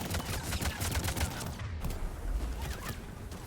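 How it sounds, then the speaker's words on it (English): Gunfire in the Mass Effect video game: dense, rapid bursts of shots crackle one after another in a continuous barrage. "Oh my goodness, that's so many bullets!"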